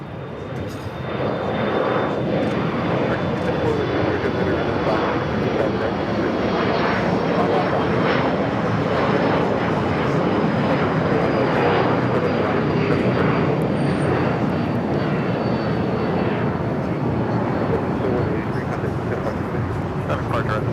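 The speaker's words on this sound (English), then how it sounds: "Got that One World at Japan Airlines Dreamliner now pushing it back there in the alleyway between Tom Bradley and Terminal 4." Japan Airlines Dreamliner being pushed back between terminals at LAX airport, with a steady, loud broadband jet engine roar and whine holding throughout, a faint high tone drifting above.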